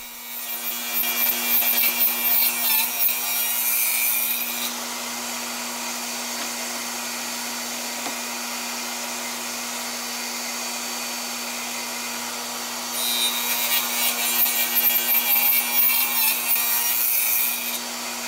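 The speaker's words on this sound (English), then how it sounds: "After some sanding, I cut 45 degree bevels on each end." A power saw cuts 45 degree bevels into wooden deck railing pieces, loud rasping bursts at the start and near the end over a steady motor whine.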